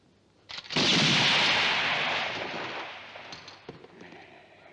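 A single loud gunshot from target shooting cracks out in a western setting, its broad blast rolling into a long echoing decay that fades over several seconds, with faint clicks near the end.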